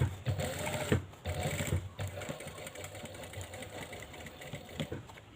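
A sewing machine stitches a replacement zipper into a pair of jeans, running in close, steady whirring bursts with brief pauses between runs.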